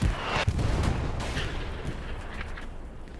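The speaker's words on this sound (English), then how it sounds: "Here comes the bombs." Commander's bombing run in the World War II shooter Hell Let Loose lands as a barrage of heavy, rumbling explosions, deep booms rolling into one another with sharper cracks at first, loud and close and slowly fading.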